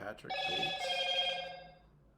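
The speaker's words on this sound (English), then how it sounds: "Sorry, that's my phone." A phone ringing indoors with a bright, tonal ring that swells and fades within a couple of seconds, while someone speaks briefly over it.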